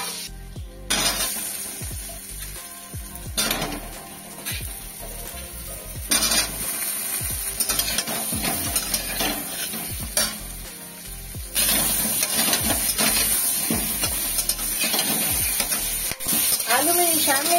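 Whole garam masala spices of black pepper, cloves, cinnamon and green cardamom sizzle in melting butter in a pan, with an ongoing hiss and frequent sharp scrapes and clinks of stirring up close.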